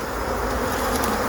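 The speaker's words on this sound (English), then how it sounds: "these are my summer bees" A dense, steady buzz of many summer honey bees swarming around their hive, loud and close, with no talk over it.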